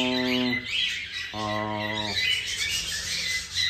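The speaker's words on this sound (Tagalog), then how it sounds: "So ipapakita ko sa inyo mga kaibon." Pet parrotlets or lovebirds, including double factor pallid and white face pearl mutations, give two harsh harmonic squawks up close, separated by busy chirping and chatter from the rest of the flock.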